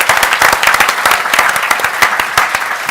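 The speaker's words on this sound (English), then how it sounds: "Let's give a round of applause if we can." An audience claps for a panel of speakers at a public forum on markets. The applause is loud and close, with dense overlapping claps that keep a steady level for about three seconds.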